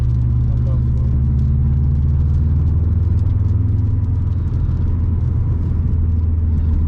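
Subaru WRX STI turbo engine drives along in a steady, loud, continuous low rumble with a droning hum, the engine note holding fairly even throughout.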